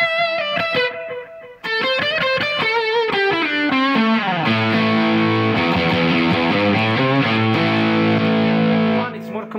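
Electric guitar played through an EDSTORTION distortion pedal from the F-Pedals line, loud and saturated, a run of picked notes descending into sustained heavy chords that ring before cutting off.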